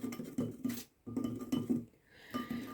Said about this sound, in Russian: Соединяю, перемешиваю венчиком.